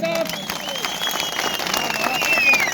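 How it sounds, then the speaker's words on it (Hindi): Crowd at an outdoor public political rally in Chatroo clapping in a steady, dense wash, with talk and shouts mixed over the applause throughout. "सुरोली तो ताली बजाओगे"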